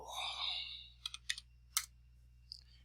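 Quiet computer keyboard typing in a room, a short burst of separate key clicks following a brief soft rustle, close and faint, with no talk over it.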